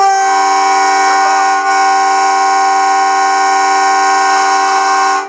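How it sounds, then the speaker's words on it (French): A loud, sustained train horn from an HLE 21 locomotive cab blares with a rich chord-like tone, holding almost continuously for about five seconds with a tiny dip near the start. "Je vais donner un petit coup de klaxon."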